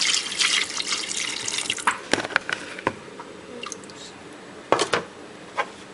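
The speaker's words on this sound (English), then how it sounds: "I'm gonna add about a cup of water." A cup of water poured into chicken gizzards frying in a pot, giving a wet, bubbling splash with scattered sharp sputters and drips, close by and fairly loud.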